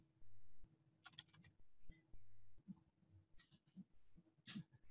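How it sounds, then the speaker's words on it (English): Someone types on a computer keyboard in quiet bursts of soft clicks and taps, faint and close, with a few louder keystrokes between short pauses. "So now I go back to Google and I type in Peter Kleins."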